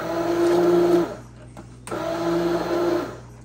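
A kitchen blender whirs loudly as it mixes cream cheese into milk, running in two steady bursts separated by a short pause, with a constant motor hum under the churning.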